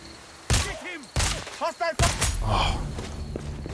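Sniper rifle shots in Sniper Ghost Warrior Contracts 2, two or three sharp, loud cracks in quick succession with echoing tails, interleaved with someone talking.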